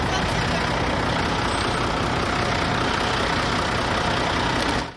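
A road grader engine idles loudly at a snow dump in Kazan, a close, steady diesel rumble with constant low throb that cuts off at the very end.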